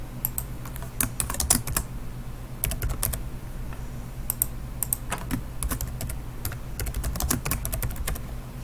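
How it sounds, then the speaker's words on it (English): Typing on a computer keyboard, irregular bursts of close, crisp key clicks over a steady low hum, with no voices. "Type in your info."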